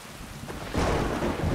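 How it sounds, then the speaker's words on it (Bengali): Heavy rain pours steadily as a storm effect in a Bengali horror audio story set at night by a railway line, the downpour swelling louder partway through and continuing as a dense, close wash with no voices. "বৃষ্টি একটু থেমে আবার জোরে শুরু হয়েছে"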